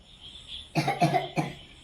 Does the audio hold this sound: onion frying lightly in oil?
no